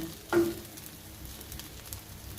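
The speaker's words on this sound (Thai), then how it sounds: "ผัดใส่ซอสค่ะ" A sharp burst of sizzling as sauce hits fried rice in a hot pan, settling into a steady, quieter frying hiss with faint stirring.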